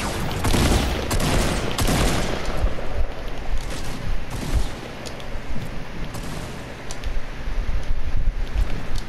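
Shotgun blasts and rapid gunfire crack through a video game match in a dense, repeated volley, loud and close, with a few bursts standing out above the steady barrage.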